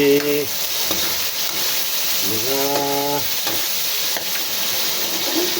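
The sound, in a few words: pork fat sautéing and sizzling in a pan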